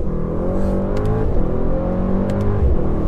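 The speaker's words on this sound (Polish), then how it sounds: "Zrywa mi trakcję do trzeciego biegu." A Mercedes-AMG GT63s accelerates hard and revs loud and close while losing traction, its engine note rising through a gear change, with a brief higher squeal of spinning tyres.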